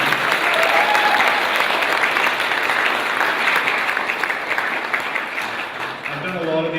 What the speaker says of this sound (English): Clap for Andrew.